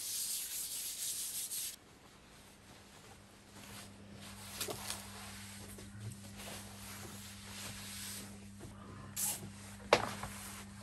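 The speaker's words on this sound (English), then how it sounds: "Before you can stick any vinyl on it, you need to sand it and clean it with a bit of cleaner." An arcade pedestal control panel being sanded by hand before vinyl goes on: a quiet, uneven rubbing scratch with intermittent strokes, a louder hiss at the start and a couple of sharp knocks near the end.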